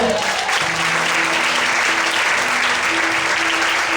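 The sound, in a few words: congregation applauding in church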